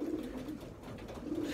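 Pigeon cooing at a racing-pigeon loft, soft repeated low coos near the start and again at the end, steady moderate level with no talk.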